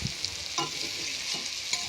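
Masala and onion frying in a pan, with a spoon stirring through it: a constant hissing sizzle with soft scrapes every half second or so, close, with no talk.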